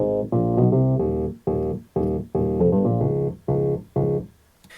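Casio MT-68 home keyboard bass line pitch-shifted an octave down, a series of about nine short, buzzy low notes in a bouncy rhythm, each ending abruptly, close and alone without talk.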